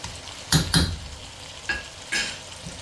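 Chicken pieces coated in spoonfuls of curry spice are stirred around a pan, giving a couple of close scraping stirs followed by softer spoon sweeps over a low background hiss.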